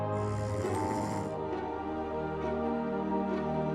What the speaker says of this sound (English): Are you someone who finds it very difficult to bear the sound of snoring?